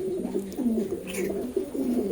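Teddy pigeons of an imported Oman bloodline coo in a steady, repeating run of low throaty calls, close by and continuous through the short stretch, with no talking.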